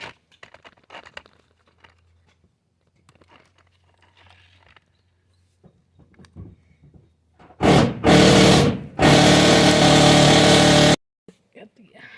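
Loosening the carburetor bolt on a Toro Super Recycler lawn mower that won't start after winter storage: two loud bursts of wrenching and scraping close by, first a short one then a longer sustained one, after quiet handling noises.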